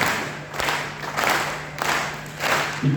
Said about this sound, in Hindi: ऐसा कि सारी कुर्सियां ताली बजाइए